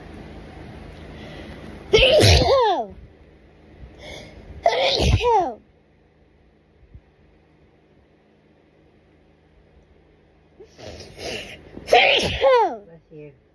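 Four loud, close sneezes from someone in a night-time sneezing fit come in two pairs, about three seconds apart within each pair and separated by a long, quiet pause.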